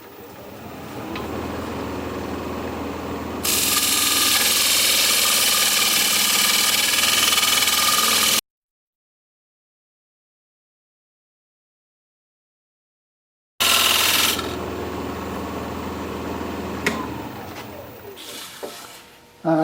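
A birch end grain bowl spins on a wood lathe at a little over 1200 RPM while a gouge cuts it, making a steady hum that turns into loud hissing scraping. The sound drops out completely midway, then the cutting resumes.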